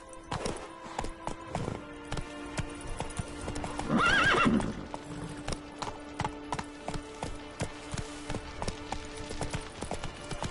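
A horse in The Witcher 3 clip-clops along at a steady trot, its hooves thudding in an even rhythm, with a loud neigh breaking out midway before the hoofbeats carry on.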